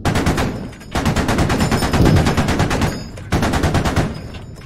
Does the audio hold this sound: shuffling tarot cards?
no